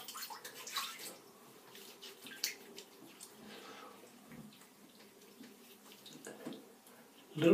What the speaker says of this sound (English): Now I'm just going to rinse my face a little bit with a drop of water.